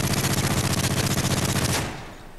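MP7 submachine gun in Call of Duty: Modern Warfare 3 firing one loud sustained automatic burst of rapid, evenly spaced shots close up, then a short fading echo tail.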